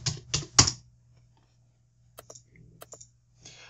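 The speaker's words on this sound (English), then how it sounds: "You can just go ahead and type that in." Typing on a computer keyboard: a quick burst of three loud, close keystrokes, a pause, then a few fainter scattered clicks over a quiet hum.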